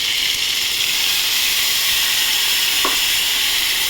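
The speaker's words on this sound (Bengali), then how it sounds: "পটলগুলো ভেজে দেবো, একটু ঠিক করে ভেজে ফিরছি।" Steady, loud frying sizzle of spice paste with pointed gourd, a constant hiss, briefly punctuated by a short stirring scrape near the end; no voices.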